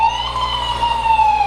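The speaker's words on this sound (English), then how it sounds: "Get some attention on that siren." Ambulance siren from Alton Memorial Hospital's vehicle in the Alton Halloween parade, sounding sick, a steady loud wailing tone held close throughout with no talk over it.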